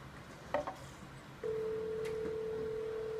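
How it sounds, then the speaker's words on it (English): A telephone dials out to place a call: two short bursts of dialing tones, then a steady, continuous ring-back tone that holds loud and unbroken for nearly two seconds, with no talking. "Okay, we've got Olivia on the line"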